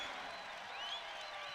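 A basketball arena crowd roars and applauds after a lob play in an Illinois State versus Northern Iowa game, a sustained wash of cheering from a large audience, moderately distant and steady.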